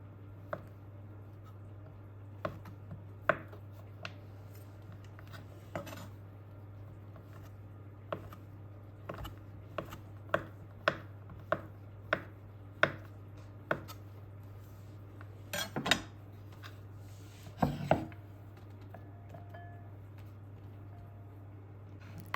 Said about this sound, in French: 25 g de beurre à couper en petits morceaux